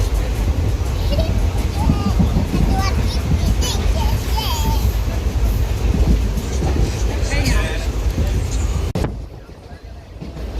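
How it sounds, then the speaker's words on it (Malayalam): A train rumbles steadily along the tracks with rhythmic clatter, heard from inside a carriage while children chatter and play nearby; the noise drops sharply near the end. "അങ്ങനെ ഞങ്ങൾ യാത്ര ചെയ്തുകൊണ്ടിരിക്കുകയാണ്, ട്രെയിനിലാണ്"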